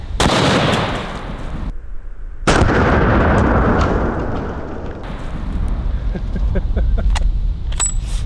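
A 375 H&H Magnum elephant gun fires at body armor: two sharp, loud blasts about two seconds apart, each with a long rumbling outdoor decay, the second followed by lingering clatter and noise.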